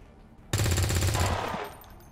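Soldiers fire a sustained burst of rapid gunfire in XCOM 2 Long War of the Chosen, loud and close, a dense rattling volley lasting over a second before fading into a lingering tail.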